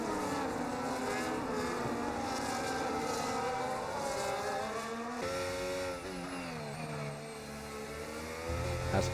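Race cars in a racing video game pass one another in a DRS train on the Saudi Arabia track, their engines droning loud and continuous with pitch sweeping up and down as they pass.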